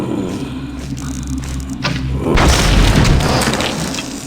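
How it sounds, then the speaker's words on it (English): A crate blows up in the game Thief Gold, a deep booming blast that swells into a sustained low rumble and slowly fades, following quieter ambient game sounds. "Probably not so smart to blow up my crate like that, huh?"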